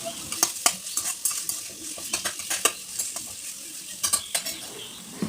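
Grated raw mango stirred in hot oil in a pan, a soft sizzle broken by repeated sharp metal spoon scrapes and clinks against the pan, close and unvoiced.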